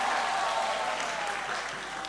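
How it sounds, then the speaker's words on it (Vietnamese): An audience at a Bible quiz competition final claps steadily, a dense, even burst of applause that stays full before slightly tapering near the end. "Một tràng pháo tay nữa đi ạ"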